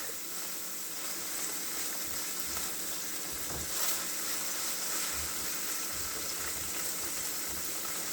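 Thinly sliced onion and garlic softening in a hot pan give off a steady, fairly quiet sizzle that stays even throughout, with no talking.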